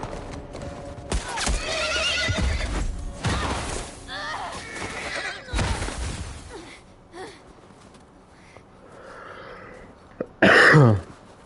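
A horse whinnies in a video game near the end, a loud rising cry after a stretch of game action, hoof clops and scattered talk.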